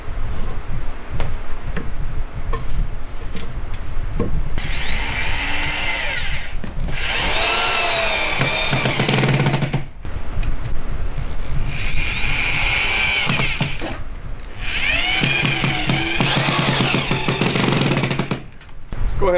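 A power drill drives screws into wood in a workshop, with several bursts of whirring and grinding, each a few seconds long, sounding close and loud over steady background noise.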